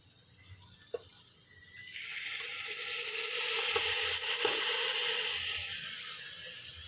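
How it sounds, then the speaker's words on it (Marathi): Washed rice is stirred into a hot pan of spiced pulao base and sets off a growing hiss of sizzling. A few scraping knocks of the spoon sound over the steady frying. "आता आपण यामध्ये तांदूळ मिक्स करूया."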